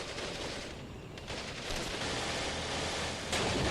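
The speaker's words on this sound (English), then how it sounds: "the machine guns open up again on my infantry" Machine gun fire in the Steel Division: Normandy '44 wargame, a dense, distant crackle of rapid bursts under a steady wash of battlefield noise, with no voices.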